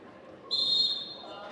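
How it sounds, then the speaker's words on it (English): A referee's whistle blows sharply once at a high school wrestling match, a loud shrill tone lasting about half a second over the gym's murmur, while an announcer talks before and after it. "Off the whistle."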